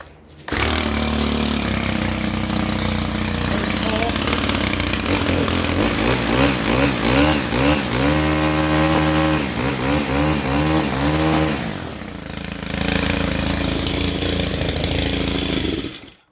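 A freshly serviced Stihl FS131 small four-stroke engine starts up and runs loud and close for about fifteen seconds, holding a steady buzz, rising and falling in pitch through a rev in the middle, then briefly dropping back before running on.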